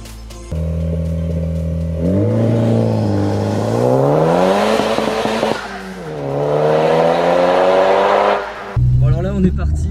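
A Honda Civic Type R FK2 with a forged dump valve and sport catalytic converter pulls away, its engine revving hard through rising, falling sweeps with a brief lift between pulls, loud and close from inside the car.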